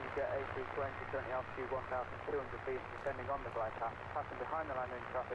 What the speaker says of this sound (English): Awesome speed on that departure. Rocketing along the runway past our position here.